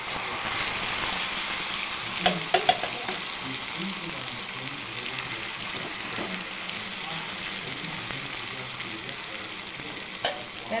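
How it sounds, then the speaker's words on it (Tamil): Curry leaves and cumin fry in hot oil in a kadai, giving a steady, fairly loud broadband sizzle throughout, with a few brief crackles and pops near the start and end. "இப்போ வந்து கடாயில் எண்ணெய் ஊற்றிருக்கேன். இப்போ வறுத்துக்கலாம்."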